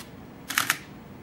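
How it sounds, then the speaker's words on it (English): Two quick sharp clicks of a Canon EOS R mechanical shutter, close and distinct against a quiet background. "just to let you listen to the difference between a mechanical shutter and the electronic silent shutter"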